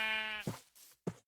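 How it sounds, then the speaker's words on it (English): A sheep bleats in the Minecraft video game, one long wavering bleat followed by two short, abrupt clipped calls, close and clear with no talk. "There's a lot of sheep over here."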